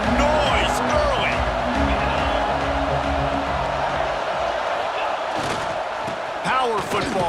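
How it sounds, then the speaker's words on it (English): Dense crowd roar from a packed college football stadium at Michigan during an Oklahoma game, a constant loud wash of many voices with shouts and a few sharp whoops near the end. "This crowd bringing the energy and noise early."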